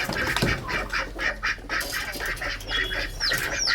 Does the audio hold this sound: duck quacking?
yes